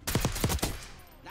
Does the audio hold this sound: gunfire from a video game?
yes